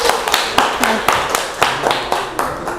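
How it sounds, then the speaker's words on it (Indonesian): A school class group claps in a burst of applause, many hands beating in quick uneven rhythm at close range, with a few voices mixed in. "dikasih aplaus"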